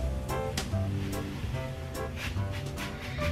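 A spatula stirs a large amount of salt into vanilla coconut soap batter, producing a steady close gritty scraping and swishing with periodic stronger strokes.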